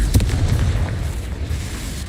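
A Confringo spell explodes in Hogwarts Legacy, one close, heavy boom with a sharp onset. It is followed by a rumbling low-end decay that fades over about two seconds.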